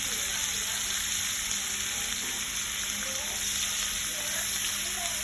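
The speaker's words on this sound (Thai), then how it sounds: "ผัดให้เข้าเนื้อค่ะให้กระเพราส่งกลิ่นหอมไปเลยค่ะ" Pork is stir-fried with holy basil and kaffir lime leaves, giving a steady, fairly quiet frying sizzle with a constant hiss and faint stirring movements. No one speaks.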